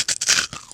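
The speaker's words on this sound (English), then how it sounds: "Oh, that crunch is so satisfying." Loud, close crunching as someone bites into dark chocolate honeycomb sponge candy, several brittle crackling bursts in quick succession, with no talking.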